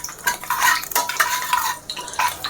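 Cumin seeds and bay leaves sizzling in hot oil in a pot, stirred with a spoon that scrapes and clatters against the metal in quick irregular strokes; close and fairly loud, no voices.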